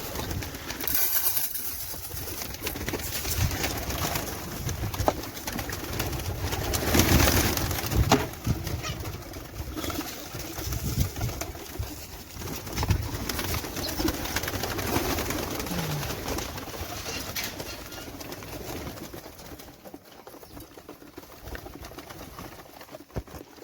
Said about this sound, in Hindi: ये देखिए, ये हमारे कबूतर हैं, हम इनको दाना डाल रहे हैं।